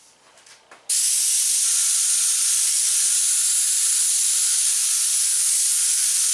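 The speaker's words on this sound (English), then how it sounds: "We'll hook up our air gun and I'll show you how to fog this stuff on." An air spray gun fogs PVA release agent onto an RV front window rock guard mold, a loud, steady hiss of atomized spray that starts abruptly after a brief quiet moment and runs continuously.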